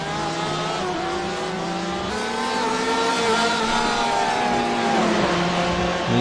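Ferrari and Porsche GTE race cars in the iRacing simulator at Sebring, engines droning steadily with rising and falling pitch as the cars run close together, loud and continuous without talk.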